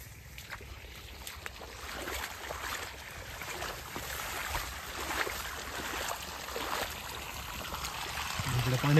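Irrigation water gushes steadily into a sorghum field, a continuous broadband rushing and splashing flow that holds even and close throughout, rising slightly at the end.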